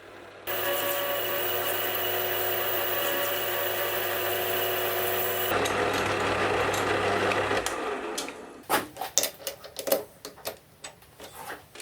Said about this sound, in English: then I'll machine in a recess on the back to accept the carrier plate